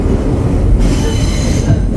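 A New York City IND R9 subway car rolls along museum trolley track, its steel wheels rumbling loudly and steadily on the rails with a faint metallic squeal.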